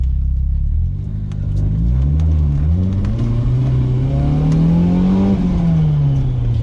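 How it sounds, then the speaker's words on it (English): BMW E30 M3 engine free revving, its note climbing in a smooth, rising sweep and then easing back down, loud and close with a steady rumbling undertone and no talk over it. "Such a wonderful free revving engine."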